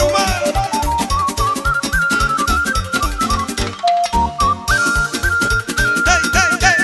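A fluier, the Romanian folk flute, plays a fast shrill melody over loud party dance music with pounding drums and accordion-like backing, dropping out briefly midway before the full band returns.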